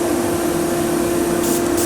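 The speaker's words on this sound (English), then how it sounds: "I'm going to have dust extractor going at the same time also, just to take away any excess dye that's coming off." A workshop dust extractor running beside a wood lathe while a bowl is dyed, a loud steady whooshing drone with a constant hum, plus two short airy hisses near the end.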